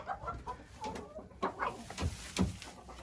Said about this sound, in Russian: Курица вышла с гнезда и хочет